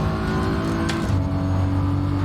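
BMW M4 GT3 race car engine in Assetto Corsa Competizione, a loud close buzzing drone with a shift in pitch partway through as revs change, continuous throughout.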